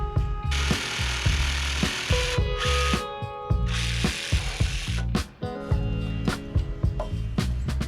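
A power drill bores a hole in wood while building a deck lounge chair, in several whirring bursts broken by short pauses, clicks and knocks, fairly close and with no talking.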